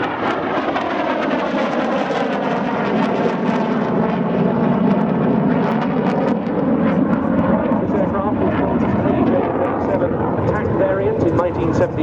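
A Saab Viggen AJS37 jet of the Swedish historic flight performing a display at Waddington Airshow, a loud continuous roar that shifts in pitch as it passes, with a commentator talking over it.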